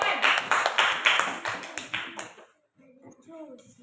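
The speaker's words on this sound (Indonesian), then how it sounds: "Ya, tepuk tangan untuk kelompok C." A small classroom group clapping for group C, a short run of distinct rhythmic claps for about two seconds, then a brief quiet gap and faint voices.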